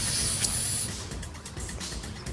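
An air blower hisses steadily into a Briggs & Stratton lawn mower carburetor to clear dirt from the jets, a close, continuous spray of air that fades slightly near the end.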